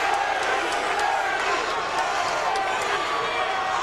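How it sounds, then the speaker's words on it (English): Boxing arena crowd chanting Larry Holmes's name during the tenth round of his fight with Butterbean, a dense, continuous roar of many voices with rhythmic surges, heard under a commentator's talk. "the crowd is chanting his name"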